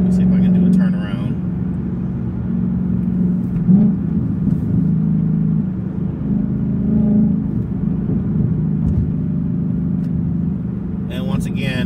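Ford Mustang Bullitt driving and turning around, with a low engine rumble that rises and falls under steady nearby talk from the driver.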